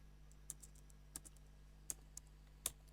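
A computer keyboard gives a few sparse, quiet key clicks while typing a short word into a Bash script. Each keystroke is distinct over a low electrical hum, and no one speaks.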